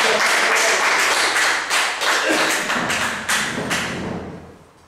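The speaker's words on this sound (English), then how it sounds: "Ellen, give her a round of applause" Audience applause for Ellen at a stage hypnosis show, loud close hand clapping with heavy thumps that swells, then fades away near the end.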